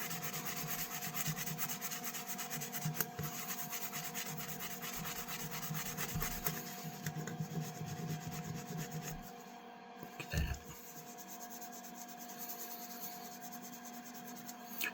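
A worn fishing knife rubbed with a cheap dollar-store cloth gives a continuous soft rubbing and scuffing texture, quiet and close, with a brief bump near the end and no talk.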